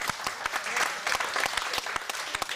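An audience in a large French theatre in Beaune claps steadily, a dense patter of many hands at moderate distance, with a voice briefly heard over it.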